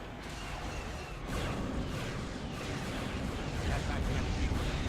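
Artillery fire in the Star Wars: Empire at War strategy game forms a dense, continuous rumbling barrage of booms and blasts, loud and unbroken, with a voice partly under it.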